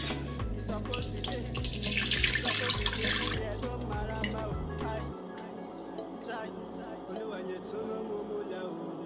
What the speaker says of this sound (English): Now I'm going to gently pour it in the pot.